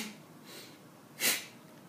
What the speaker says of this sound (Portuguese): A Bhastrika que a gente vai fazer é uma assim.